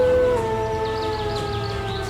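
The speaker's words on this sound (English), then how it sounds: "They howl in excitement." Several wolves in the Roblox game Yellowstone Unleashed howl together, long sustained overlapping tones that bend and hold, loud and close with no talk.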